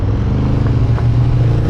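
A Honda Hornet 750 motorcycle engine drones steadily at close range while being ridden, a loud low rumble that holds even throughout with faint clatter and no speech.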